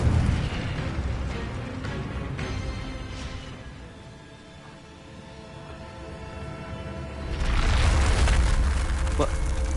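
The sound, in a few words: Incendio fire spell in the video game Hogwarts Legacy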